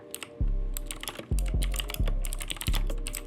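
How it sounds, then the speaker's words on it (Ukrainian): Sharp, clicky keystrokes on a budget mechanical keyboard with blue switches, an irregular run of loud taps close up with heavy thuds on some presses. "дешевої механіки зі звуком клацання версії Blue"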